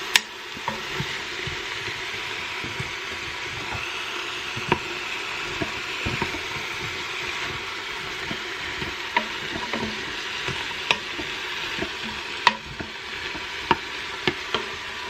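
Onions and peppers sautéing in a pan for three bean chili, a steady soft sizzle with scattered utensil clicks and scrapes throughout.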